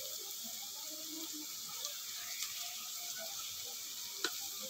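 Ginger-garlic paste frying in butter with a little oil for pav bhaji gives a steady, soft sizzling hiss with a few faint pops and clicks, and no one speaks.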